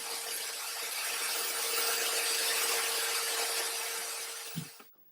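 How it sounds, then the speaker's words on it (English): A corded drill spins a wooden dowel as a makeshift lathe while it is sanded, a steady high whine with a faint scraping hiss, then winds down and stops near the end. "I jammed it into the chuck of my corded drill and I'm using it as an impromptu lathe."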